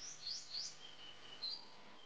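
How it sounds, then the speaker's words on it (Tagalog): Small birds chirp around a rural house among coconut palms, a few thin high tweets and brief calls heard faintly at a distance over quiet background hiss. "Huni ng ibon."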